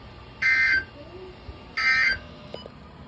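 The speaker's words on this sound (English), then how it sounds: "This ends the test of the National Weather Service weather radio warning alarm." A National Weather Service weather radio warning alarm sounds twice, two loud, close electronic buzzing tones of about half a second each with a short silence between them.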